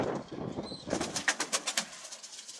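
A homing pigeon coos in a short series of repeated soft calls, close by, following a brief stretch of lower murmuring noise, with stormy, rainy weather.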